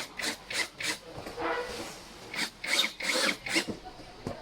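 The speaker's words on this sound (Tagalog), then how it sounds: "Then you need to tighten the bolt." Bolts being tightened during assembly of a black mesh swivel chair, a series of short scraping, rubbing tool strokes in uneven bursts, close and moderately loud, with a brief voice in the background.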